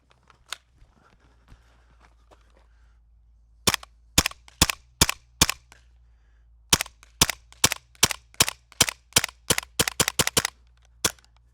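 A gas-powered airsoft gun modeled on a Battlefield 6 weapon fires about twenty sharp, close pops, first as spaced single shots, then in a quicker irregular string.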